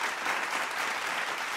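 Loud, dense applause from a studio audience at a Punjabi folk singing show, a continuous wash of clapping that stays steady and full for the whole moment with no talk.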